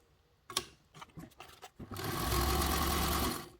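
A sewing machine runs a steady stitching burst along the seam of a crescent-shaped bag, preceded by a few short, uneven starts and clicks as the fabric is positioned, close and moderately loud with no talking.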